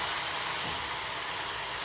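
Water poured into hot, darkened caramel in a pan for a pineapple cake, giving a steady, fairly loud broadband sizzle and hiss that holds evenly for about two seconds with no talking.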